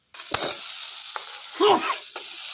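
Fried potatoes dropped into a sizzling, oil-rich spice paste and stirred, with a steady frying hiss and a few sharp scraping strokes.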